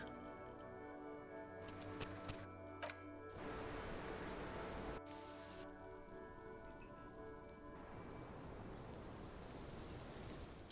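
Steady rain patters on surfaces in the video game Disco Elysium, a dense even hiss with light droplet ticks, accompanied by a low sustained musical drone.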